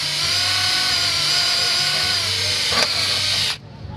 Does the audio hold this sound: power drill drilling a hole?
yes